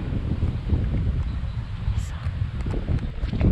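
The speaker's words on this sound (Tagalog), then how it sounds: "Mahangin siya." Steady wind buffets the microphone at a cold, scenic roadside viewpoint on the Marilaque–Infanta road trip, a continuous low rumbling roar that runs through the whole stretch with no clear break.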